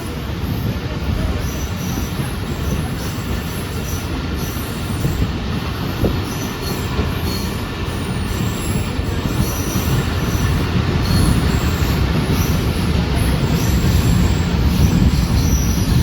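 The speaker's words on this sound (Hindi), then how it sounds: "मली रेलवे स्टेशन से रवाना हो रही है हमारी ट्रेन" A Shah Latif Express passenger train pulls out of a railway station in Pakistan, a steady loud rumble of wheels on rail with squealing and rattling wagons building slightly as it gathers speed, with no talk.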